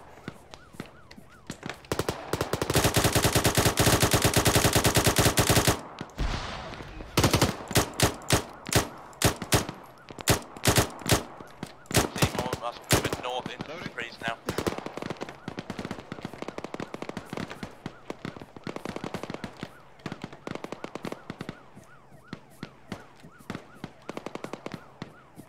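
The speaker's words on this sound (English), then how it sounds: "Southeast, clear wherever that gunfire is" Video game gunfire: long automatic bursts and rapid single shots crackle loud and close, a dense sustained volley early on followed by irregular stuttering shots.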